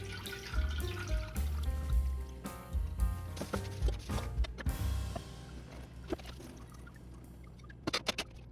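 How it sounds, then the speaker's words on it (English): Liquid turmeric garden spray being poured through a strainer in uneven splashing bursts, then tapering into a thin trickle and a few drips, with clinks of a container near the end. "So we're just going to slowly pour this in here and strain it."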